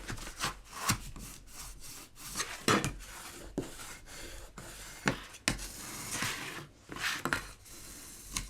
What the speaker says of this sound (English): I'll use my big old spatula to make sure that I have very good spine definition